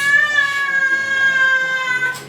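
A stressed cat meows loudly and continuously in a long, drawn-out cry while a vet injects fluids under its skin to treat an illness.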